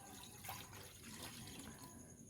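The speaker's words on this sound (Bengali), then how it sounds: "আবার আমি জল দিয়ে দেবো।" Water trickles and splashes in a kitchen as it is poured over flour (maida) dough being washed, a faint steady running sound with small drips and no talk.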